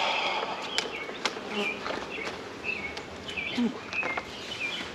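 A low, steady buzzing of many honey bees in an open hive hums in the background, with scattered bird chirps and faint clicks over the top.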